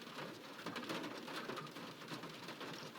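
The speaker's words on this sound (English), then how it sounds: "Rain. It's been a long time since we've gotten rain around here" Steady rain falls in the video game Seduce Me, a dense, even hiss of drops on a surface that stays constant throughout, with no voices over it.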